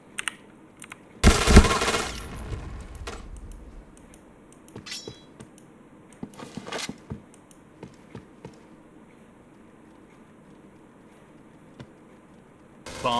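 Gunfire in a first-person shooter game, a loud sustained automatic burst up close followed by scattered single shots, clicks and distant pops that thin out into sparse intermittent reports, no talk.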